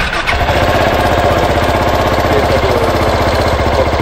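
A motorcycle engine at a motorbike festival, started with a push button on an automatic bike, running loud and close with a steady, dense throb for the whole stretch.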